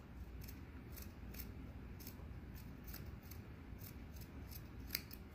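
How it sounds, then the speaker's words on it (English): Scissors trimming a fabric seam allowance while sewing high-waisted bummies, a series of crisp, quiet snips in an irregular rhythm over faint room noise. "just trim your seam allowance"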